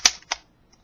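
Plastic Lego-brick pistol being cocked back, giving two sharp close clicks a quarter second apart, then a faint tick, with no talking.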